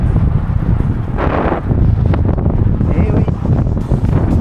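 Wind blows hard across the microphone at a campsite, a steady rough rumble that comes and goes in gusts, under a short spoken reply.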